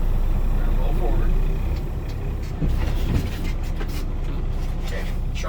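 A truck rolls forward slowly during an in-cab inspection in Omaha, with a steady low engine rumble and drivetrain drone throughout and a brief swell partway through.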